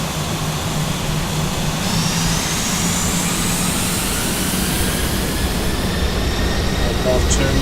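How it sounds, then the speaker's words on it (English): Steady, loud aircraft engine drone from inside a light plane turning in cloud on instruments, a continuous broadband roar with a low hum and a faint rising whine, unbroken throughout. "Aircraft turning to pick up the new leg of the route."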